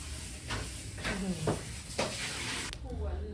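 Quiet sizzling in a pan with a few scraping stir strokes, spaced roughly every half second, under a soft continuous hiss.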